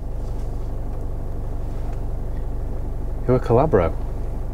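An old police van's engine idles smoothly and steadily up close, a low continuous rumble running the whole time, while someone speaks briefly near the end.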